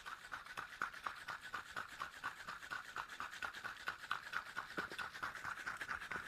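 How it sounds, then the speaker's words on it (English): A cocktail shaker holding a kiwi cocktail gets a dry shake without ice, giving a fast, even run of bright rattling strokes that repeats steadily throughout, fairly quiet and alone. "Then we're going to give it a dry shake for about"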